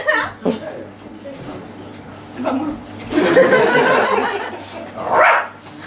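On stage at an improvised theatre show, a performer imitates a barking dog with a few voiced yaps and growly bursts, mixed with speech and some chuckling from the room.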